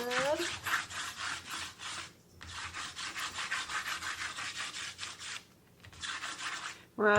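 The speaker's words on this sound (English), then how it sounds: "You're going to take your chalk. I'm going to use blue. I don't know why. And you're going to just rub" Blue sidewalk chalk rubbed back and forth over a DIY chalkboard made from a thrifted frame, a steady close scratchy rubbing in long strokes with two short pauses.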